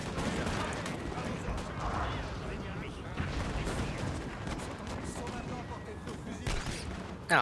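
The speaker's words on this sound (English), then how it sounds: "Now you're firing." Musket volleys crackle across a Napoleon: Total War battlefield, a dense, continuous roll of distant gunfire and battle noise running under a voice giving orders.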